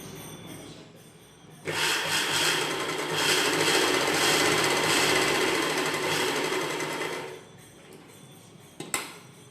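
Sewing machine stitching the neckline of an umbrella-cut dress, a steady whirring run of rapid stitches lasting several seconds between quieter handling noises, close by with no speech.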